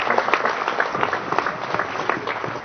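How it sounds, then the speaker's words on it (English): Audience applause for the President of the Senate of the Federal Republic of Nigeria at a round table opening, a steady wash of many hands clapping, moderately loud and close, with no talk over it. "Another round of applause for His Excellency, the President of the Senate of the Federal Republic of Nigeria"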